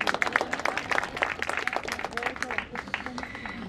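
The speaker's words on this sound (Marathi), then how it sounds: "टाळ्या वाजवल्या तरी चालेल" An audience at a book launch for a short-story collection in Pune claps in a quick, irregular patter. The applause is moderately loud, mixes with voices, and thins out toward the end.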